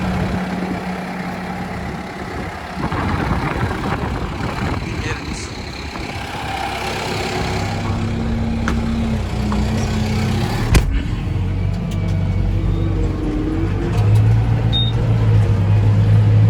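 A Kubota tractor engine runs steadily in a farm field, a continuous low diesel rumble with occasional clanks, heard close by while people talk over it.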